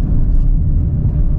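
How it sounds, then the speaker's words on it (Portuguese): A 2023 Peugeot 208 Style with a 1.0 engine drives on a track, producing a loud, steady low engine and road rumble heard from close by without talking. "Agora, fazer o test drive na pista aqui e vamos ver como ele se comporta na pista."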